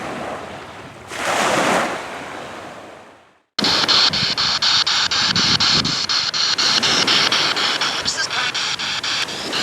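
Ocean waves break on an empty beach with a steady, loud wash of surf and wind buffeting the microphone, after a brief drop-out partway through.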